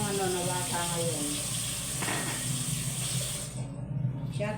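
Murky, yellowish water gushes from a household tap into a sink, a close, steady hissing rush that runs continuously and eases slightly near the end.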